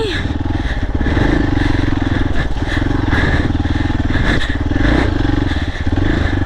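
Nepali rider's motorcycle working through an off-road trail, engine droning steadily with rough rumbling and clatter close by throughout, with voices faintly present under it.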